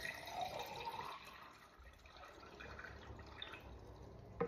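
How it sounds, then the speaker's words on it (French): Room-temperature water poured into an alkaline cup, a faint close trickle and splash with a small clunk at the end. "Puis on va remettre à nouveau de l'eau à température ambiante."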